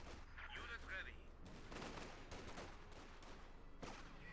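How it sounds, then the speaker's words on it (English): Gunfire crackles from a Company of Heroes 2 battle, with rifle and machine gun fire between OKW Volksgrenadiers and US riflemen: a dense, steady run of mid-distance shots over background battle noise throughout. "We got the line to guns though, firing away at the riflemen."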